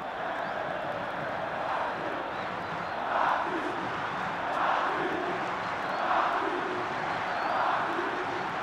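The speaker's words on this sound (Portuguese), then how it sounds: "Torcida grita o nome do Baxi Biancucci." A stadium crowd at a 2007 Flamengo versus São Paulo football match chants a player's name, a dense roar that swells in regular rhythmic surges, loud and continuous.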